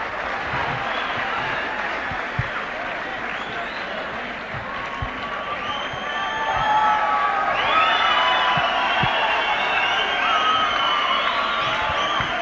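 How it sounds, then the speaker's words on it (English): A boxing crowd at a super heavyweight fight roars in a sustained, dense wash of cheering, whoops and shouts that swells louder midway and stays loud to the end. "A standing ovation from the crowd. Listen to the place erupt"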